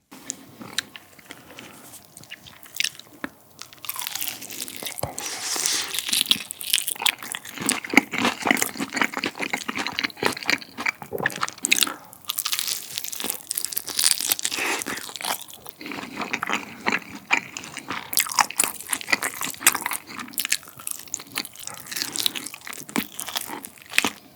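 Zero-sugar seasoned fried chicken from Chicken Plus being bitten and chewed close to the microphone, repeated loud crisp crunches and crackles in irregular bursts over roughly twenty seconds, no talking.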